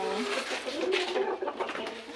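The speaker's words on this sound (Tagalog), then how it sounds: "Manok ya gutom-gutom na oh." Hungry chickens cluck and murmur close by, a restless cluster of short bird calls over a couple of seconds.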